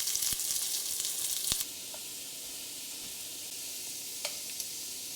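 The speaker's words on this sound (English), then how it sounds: "remove those potatoes when they're equally fried on all sides" Potatoes frying in hot oil in a home kitchen give off a steady close sizzle and hiss, louder at first, then settling to a quieter bubbling with a few sharp pops.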